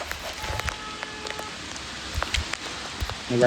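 Heavy rain pours down during a downpour in Patan, with scattered sharp drops and splatters striking nearby surfaces over a constant wet hiss, loud and close, with no talking.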